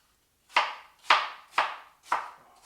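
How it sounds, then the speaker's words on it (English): Knife cutting through apples on a board while making a sauce, four crisp evenly spaced chops, each with a short fading tail, close and clear with no talk. "Keep cutting."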